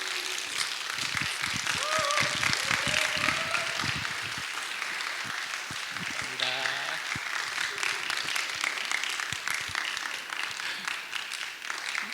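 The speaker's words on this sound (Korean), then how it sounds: "나오실 때 큰 환영의 박수로 우리 격려하겠습니다." Sustained applause from a church audience welcoming a pastor to lecture at an officer-elect training session, a steady dense patter lasting throughout, with some voices mixed in.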